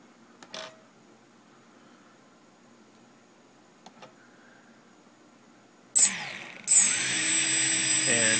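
Quadcopter motors and ESCs on an ArduPilot Mega 2 beep faintly, then spin up with a sudden high whine that steps up again and holds as a loud steady hum.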